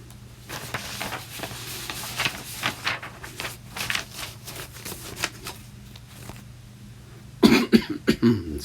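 A burst of sharp, close coughs near the end, following several seconds of quieter rustling and handling noise.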